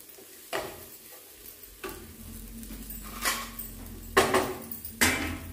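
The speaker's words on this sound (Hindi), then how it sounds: "इस तरीके से मैं पटैटो मैसर से मटर को मिक्स दूंगी" A potato masher presses peas mixed with spices and onion in a pan, producing a series of soft, irregular mashing thumps and metallic scrapes over a faint sizzle, close up with no speech.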